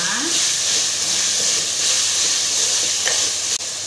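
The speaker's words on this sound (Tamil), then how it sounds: "வெங்காயம் தக்காளி நல்லா வதங்கிக்கிட்டு இருக்கு" Onions and tomatoes sautéing with salt in a pan for mutton curry give a steady, close hiss and sizzle that runs continuously throughout.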